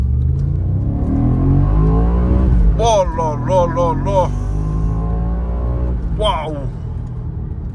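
An Audi RS4 pulls away hard, its engine revving up in a low rumbling surge under excited voices, with a brief quieter moment before the revs climb again.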